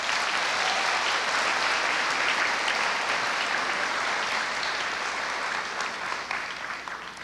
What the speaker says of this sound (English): Can we please give our students a great round of applause?